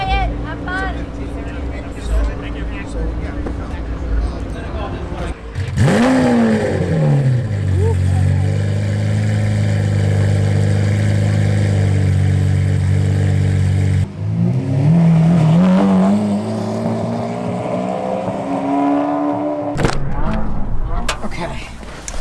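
Pagani Zonda Cinque Roadster supercar (SV) engine starting with a sharp bark, then a loud sustained high idle and rising revs, a second burst of revving with a falling whine, close and powerful, with people talking faintly.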